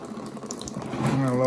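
Coolant drains from a 2007 Lexus RX350 engine during water pump removal, a soft steady trickle of liquid that grows slightly louder, with a faint voice briefly in the background.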